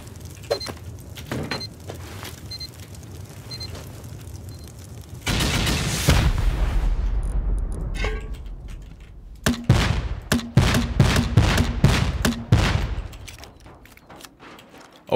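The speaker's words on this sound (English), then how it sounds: "I'll send 2C4. We can send some GL rounds and rockets." C4 and rocket explosions go off while raiding a base in the video game Rust: a heavy booming blast with a rumbling tail, then a rapid series of loud thudding detonations, with faint beeping before.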